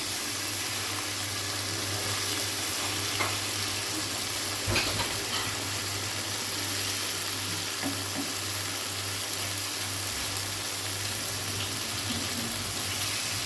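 Minced meat qeema with shimla mirch capsicum fries in a pan, a steady, loud sizzle with a constant hiss and low hum, broken once by a brief stirring scrape partway through.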